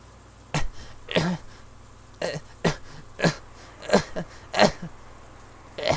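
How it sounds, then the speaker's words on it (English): Jessica, who has asthma, in the visual novel Umineko When They Cry, coughing in a long fit of about ten harsh, close coughs and throat-clearing hacks at uneven intervals, with no talking. "when an attack comes suddenly, she can't stop coughing anymore"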